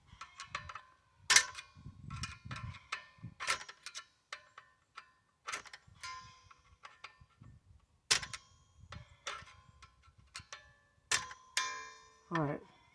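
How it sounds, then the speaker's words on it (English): A hammer taps on the electric brake assembly of a travel trailer, giving sharp metallic clicks in irregular bursts, some single and some in quick runs, with quiet handling noise between them. "Hitting the brake assembly right there."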